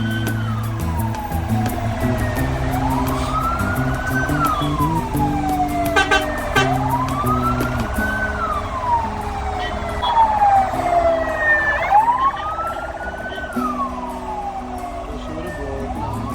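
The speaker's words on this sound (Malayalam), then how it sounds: "പോലീസ് വണ്ടി" A police car siren on a road near Thrissur, heard from inside a moving vehicle. Repeated rising and falling wails sweep over a steady rumble of engine and traffic, fairly close and loud throughout.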